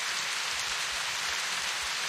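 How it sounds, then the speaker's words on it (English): Steady rainfall patters on surfaces in The Path, a dense, even hiss of raindrops with faint low thuds and no music. "No more music, it's completely silent, only the raindrops sound."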